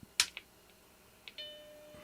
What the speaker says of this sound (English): we got a chime